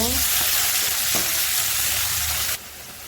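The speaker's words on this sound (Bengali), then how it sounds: "ভাজা হয়ে গেলে উঠায় রেখে ওই তেলে পেঁয়াজ কুচি দিয়ে দিব।" Chopped onions frying in hot oil make a loud, continuous close sizzle with a few scrape accents from stirring, then the sizzle drops abruptly near the end.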